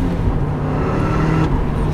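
A 35-year-old Porsche 944 Turbo engine pulls hard under acceleration, a loud, steady low drone with a rising whir, heard close from inside the car without any talk.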